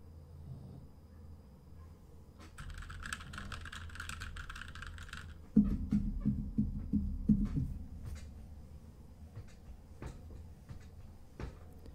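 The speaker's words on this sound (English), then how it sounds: "when I start typing and hitting my desk and rocking back and forth" Keyboard typing with thumps against a desk and some rocking movement, sounding as sharp clicks and low knocks. The knocks come in a louder burst in the middle, then sparser taps continue to the end.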